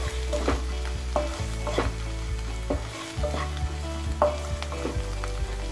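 Spiced masala for vada pav fries in a pan while a spatula scrapes and knocks against it in a regular rhythm, about every half second to a second, over a steady low sizzle, close and without speech.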